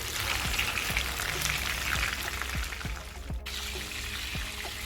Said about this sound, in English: I am going to go ahead and flip my fish to the other side